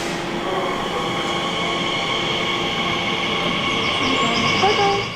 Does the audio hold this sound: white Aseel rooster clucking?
no